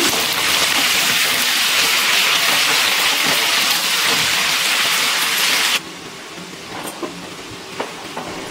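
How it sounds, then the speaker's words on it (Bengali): Cauliflower florets frying in hot oil over a medium gas flame for a vegetarian rezala, giving a steady loud sizzle and crackle that drops suddenly to a quieter hiss with a few small pops. "এবার ফুলকপিগুলো ভেজে নেব।"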